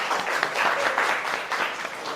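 A high school economics class claps together after group presentations, a short burst of lively applause that swells and dips slightly, with no talk over it.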